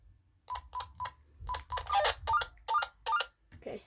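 Walkie-talkie calling tone: a run of short electronic beeps in quick bursts, about a dozen pulses in uneven groups, close and fairly loud over a low background hum.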